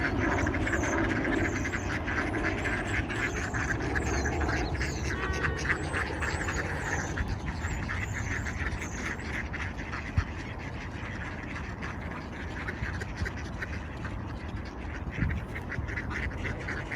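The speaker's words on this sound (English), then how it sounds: "Some female ducks want to eat a big piece of bread and others are trying to steal her food." Female ducks quack steadily while squabbling over a big piece of bread being fed to them, a dense, continuous chorus of calls close by over constant outdoor background noise.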